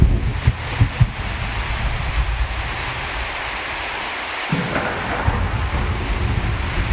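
A rain storm in the survival video game Prologue: Go Wayback! sounds as a steady, dense roar of rain and wind with low rumbling underneath. It runs continuously and loudly with no talking.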